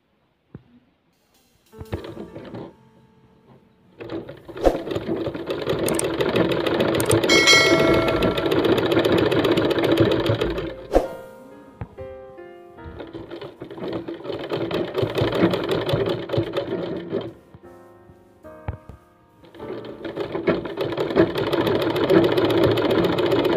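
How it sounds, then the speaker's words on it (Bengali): A sewing machine stitches a pleated fabric sleeve in three separate runs, each a steady, close whirring drone that stops briefly before starting again. "তারপর সেলাই দিয়ে দিতে হবে।"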